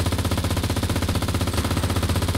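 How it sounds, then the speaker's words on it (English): Mounted MG42 machine gun firing in the Enlisted war video game, a rapid continuous burst of sharp, evenly spaced shots at close range, loud and unbroken. "MG42 go brr!"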